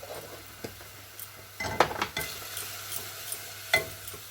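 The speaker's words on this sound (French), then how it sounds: "je mélange une cuillère à café de curry jaune" Yellow curry powder is stirred into coconut milk sauce for satay, a few soft spoon scrapes and clinks against the pot with faint simmering between, quiet and close.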